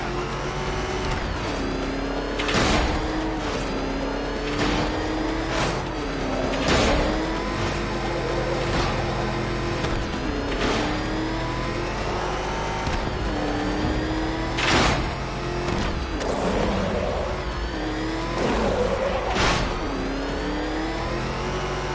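Batmobile engine from the Batman Arkham Knight video game, a loud sustained car engine with repeated revving surges and rising pitch sweeps, alongside game effects, with no talk.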